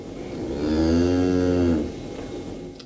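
A single long, loud moo from cattle in a barn on a Fukushima farm, rising and then fading over about a second, heard close with no talk.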